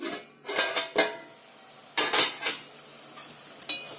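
Metal utensil clinks and scrapes against a cooking pot while a paste of onions and tomatoes is stirred for chicken biryani, a handful of sharp clatters spread over a few seconds, close and fairly quiet, with a lid set on the pot.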